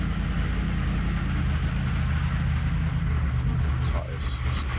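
A Ford car engine idles in a racing video game, a steady low rumble running continuously with little change, close and fairly loud, while a voice talks over it.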